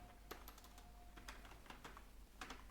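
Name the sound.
typing a message to an AI chatbot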